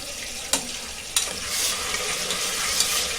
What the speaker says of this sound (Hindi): अभी इसको अच्छे से भूनेंगे।